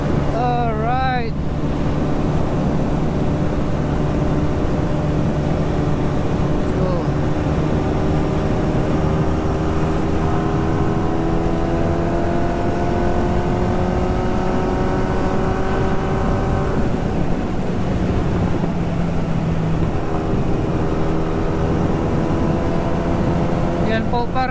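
An MV Agusta Brutale motorcycle rides along a country road in Australia, its engine note droning and shifting in pitch as the bike pulls, with heavy wind buffeting the microphone throughout.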